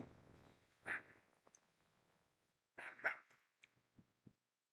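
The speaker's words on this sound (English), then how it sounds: "a submission from Jordan Swanson, who is with his dog exercising his freedom of speech" A dog barks in two short bursts, a single bark then a doubled one a couple of seconds later, followed by a few soft yips, fairly close and otherwise quiet.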